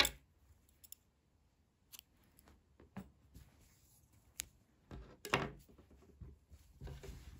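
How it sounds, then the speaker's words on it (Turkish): Scissors snip through acrylic yarn after a crocheted baby vest is finished, giving a few sharp, close clicks scattered among faint handling noises in a quiet room. "İpliği kesiyorum."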